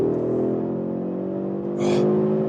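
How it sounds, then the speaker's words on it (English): An Audi sedan engine drones steadily and loudly at about 160 km/h, its pitch climbing slightly as it pulls through a chicane, with a brief whooshing swell near the end. "you hear a lot of the engine"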